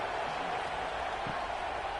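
Football stadium crowd, UNLV at Washington, roaring in a steady, dense wash of cheering just before kickoff, with no break in the noise.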